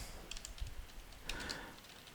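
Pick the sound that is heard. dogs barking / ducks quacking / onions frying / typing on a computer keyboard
typing on a computer keyboard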